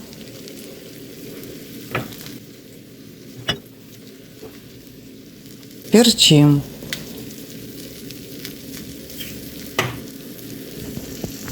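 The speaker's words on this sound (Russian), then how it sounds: "И еще жарим несколько минут, накрывая крышкой." Steady frying sizzle from a covered pan of eggs, onions, cheese and sausages, with a few clicks and a brief clatter of a lid or utensil midway; a voice speaks briefly.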